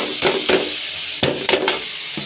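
Red amaranth greens tossed into a hot pan with onion, garlic and green chili, giving a steady sizzle broken by a few loud stirring scrapes.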